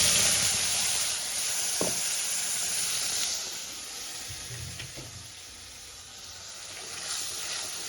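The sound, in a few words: spice paste frying in butter and oil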